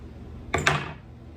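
Scissors cutting a piece of packing material in half during tissue culture deflasking, one sharp double snip close by, then a fading tail.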